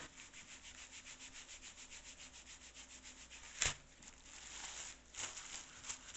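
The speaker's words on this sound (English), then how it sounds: "Sometimes what I do is I fold that over and just gently rub around the edges." Soft, rhythmic rubbing of wet felt around the edges of a handmade glasses case, with quick regular strokes close up, a few louder brushing scuffs, and no talking.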